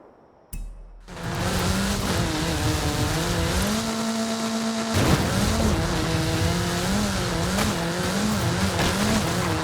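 A car engine in Forza Horizon 5 roars loudly as it accelerates through the gears, pitch climbing and dropping at each shift, with tire squeal mixed in and no talk.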